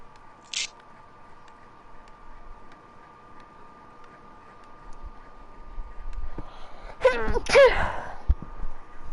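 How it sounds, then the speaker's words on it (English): A person lets out a half-aborted sneeze, a sharp stifled burst near the microphone followed by a short rustle, after a long stretch of low electrical hum and a brief click earlier. "It was like a half aborted sneeze."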